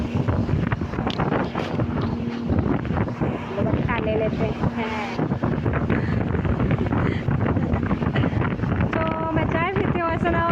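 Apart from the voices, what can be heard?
strong air cooler wind blowing into microphone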